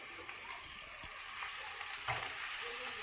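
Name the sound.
potatoes sautéing with cumin and turmeric in a pan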